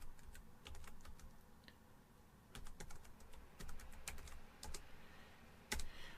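A password is typed on a computer keyboard in short, quiet bursts of crisp key clicks with brief pauses between them, heard close and alone in a faint room.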